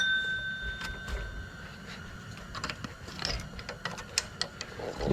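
A wrench tightens a part on a Manco mini bike in a garage, making faint, irregular metallic clicks and ratcheting ticks in short bursts, close by, over a low background hum.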